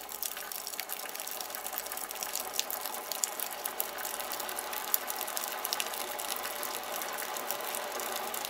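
Tap water running steadily into a pot being filled for chili ramen, a continuous bright hiss with faint metallic ticks, close and alone with no talking.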